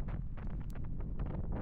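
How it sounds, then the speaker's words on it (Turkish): Strong gusty wind on a ridge of Little Mount Ararat buffets the microphone in a steady low roar, with rustling fluctuations and no voices. "rüzgar burada iyicene şiddetini artırıyor"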